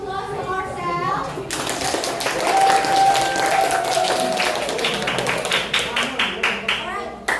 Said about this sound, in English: let's give applause to ourselves